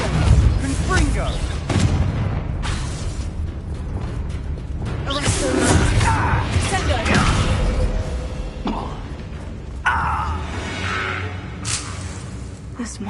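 Spell explosions from Confringo and Bombarda blasts in a Harry Potter video game, set in a closed mine, booming repeatedly over a dense, continuous layer of game noise and music, with a voice speaking over parts of it.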